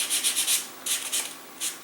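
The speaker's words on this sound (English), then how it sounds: "Sand off the top." Short, close strokes of sandpaper scrubbing the top of a small model rocket pod, in quick rhythmic bursts with a brief pause between two runs, no voices.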